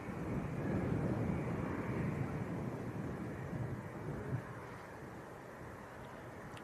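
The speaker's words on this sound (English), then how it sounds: "737-800, just about to line up" A Jet2 Boeing 737-800 airliner lines up on the runway at Leeds Bradford Airport, a steady broad jet-engine roar heard from a distance, blended with wind rumble and holding fairly even throughout.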